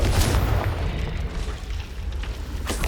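A Confringo fire blast spell in Hogwarts Legacy on PS5, a deep booming explosive burst with a rumbling tail that fades, followed by a faint crackle.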